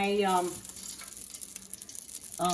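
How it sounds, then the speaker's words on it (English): Bacon grease heating in a pan for potato soup gives a soft, steady sizzle and crackle, faint and continuous between brief bits of a voice speaking at the start and end. "I started heating up the pan. And I'm going to add bacon grease in there."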